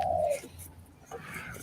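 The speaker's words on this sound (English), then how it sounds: "a grey pigeon, like a one that's got a bit of a little horn on the head." A grey pigeon with a small crest on its head gives a short, low cooing call, fairly close, followed by quieter faint sounds in the background.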